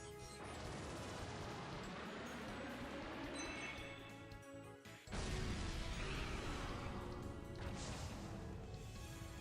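A double buster cannon blasts in the video game Trails from Zero, a heavy booming burst midway that lifts an already dense, noisy game soundscape.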